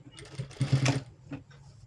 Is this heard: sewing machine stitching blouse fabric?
yes